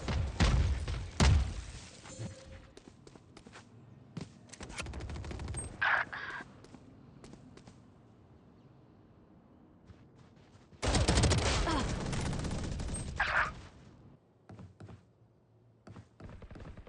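Missiles launch in a video game as bursts of sharp thumping blasts, with two louder clusters of impacts standing out against quieter game effects.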